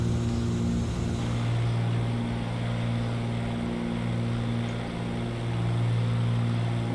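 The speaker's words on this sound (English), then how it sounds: "It literally sounds like the Cessna." Continental piston engine of a Cessna aircraft in a flight simulator game, a steady loud droning hum with strong low harmonics that swell and dip slightly, running continuously with no speech.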